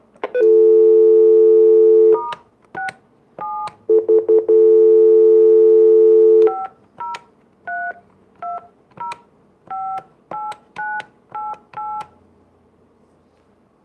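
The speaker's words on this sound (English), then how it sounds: "we'll dial in and see who's on the line" Telephone line tones while dialing into a conference call: long steady tones, then a quick series of short dialing beeps in an uneven rhythm, loud and close, with no voices.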